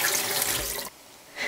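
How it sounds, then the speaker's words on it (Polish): Tap water runs loudly in a steady rush while a cauliflower is rinsed, then cuts off abruptly, leaving near silence before a brief swell of water returns. "Opłukać trzeba go wodą."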